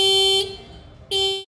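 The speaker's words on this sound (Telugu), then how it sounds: "మీకు ఇప్పుడు ఈ బైక్ హారన్ అనేది వినిపిస్తాను." Horn of a Suzuki Gixxer SF 155 motorcycle, two loud, close steady blasts, the first longer and the second short after a brief gap.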